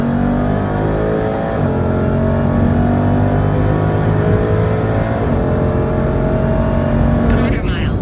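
Jeep Trackhawk under hard acceleration, its engine roaring loud and steady throughout with harmonics that climb and drop through gear changes, talk and cheering mixed in over the engine.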